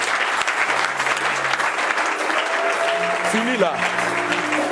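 Church congregation applauding and cheering at a worship service, a dense continuous clapping close by, with voices speaking over it toward the end.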